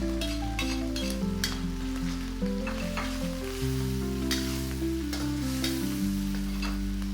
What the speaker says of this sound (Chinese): 快速煸炒入味。 放入姜末和蒜末